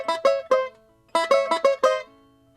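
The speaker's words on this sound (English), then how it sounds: "I'm going to hit the strings first and then clip it off with that double stop." Twangy plucked banjo notes ring out in two quick bursts of rapid picks, each ending in a clipped double-stop, loud and unaccompanied.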